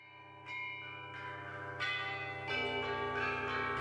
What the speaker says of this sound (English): Bianzhong. It consists of a set of bronzo bells.